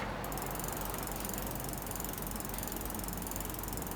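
Rapid, continuous ratchet clicking of a freewheeling Novatec bicycle freehub on a 29er mountain bike, a steady buzzing whir, fairly quiet and close.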